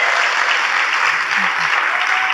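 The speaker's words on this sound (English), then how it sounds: "Let's give them a round of applause." A steady wash of dense applause from an audience honoring volunteers at a keynote event, continuous and fairly loud with no gaps, filling the whole stretch evenly.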